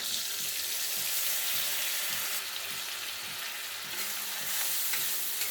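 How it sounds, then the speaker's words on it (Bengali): Soaked spices frying with cooked-down tomato in a pan, giving a loud, steady sizzle and hiss throughout with faint rhythmic stirring scrapes underneath and no speech. "টমেটোটা অনেকটাই কষানো হয়ে গেছে, এখন ভিজিয়ে রাখা মশলাগুলো দিয়ে দেব।"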